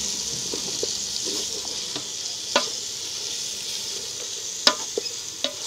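Broiler chicken curry being stirred inside a rice cooker, with a steady soft sizzling hiss and scattered light scraping knocks of the spoon against the pot, close and fairly quiet.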